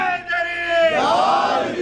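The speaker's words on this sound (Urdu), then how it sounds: "نعرہ ایک نعرہ بلند فرمائیں آپ حضرات" Audience at an Eid e Ghadeer poetry gathering raises a loud, massed religious slogan chant, many voices rising together in a sustained roar of crowd shouting.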